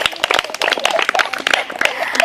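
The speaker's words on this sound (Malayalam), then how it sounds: "ക്ലാപ്പ് ചെയ്തേ." A group of pupils at a primary school quiz event claps on request, a steady close crackle of many hands layered with overlapping voices.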